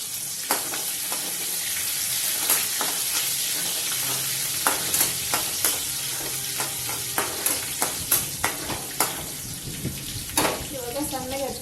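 Green chillies sizzle and crackle in hot oil in a covered pan, a steady loud frying hiss with sharp popping spits scattered throughout, growing more frequent toward the end.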